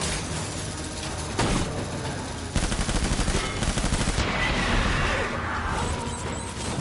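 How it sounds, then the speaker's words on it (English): Assault rifle fire in Death Stranding crackles in loud, dense bursts of rapid shots, with short pauses between volleys and clattering impacts over a noisy backdrop. "Assault rifle."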